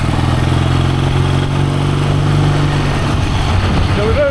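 A barn-find BSA motorcycle with a cracked engine cylinder runs loudly and unevenly nearby, its rough, spluttering engine note clattering continuously.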